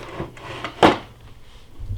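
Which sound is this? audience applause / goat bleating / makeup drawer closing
makeup drawer closing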